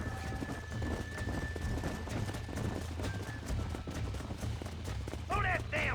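Horses gallop in Red Dead Redemption with a continuous dense thudding of hooves under game music and ambience, and a brief whinny-like call near the end.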